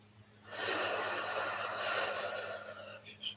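A single loud breath, a sharp snort-like inhale or exhale, rushes in close to the mic and holds for a couple of seconds over a faint steady hum before trailing off.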